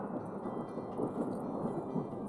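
Low, continuous thunder rolls through a rainy hillside scene as rain begins, a broad steady rumble with a soft hiss of falling drops over it, no voices.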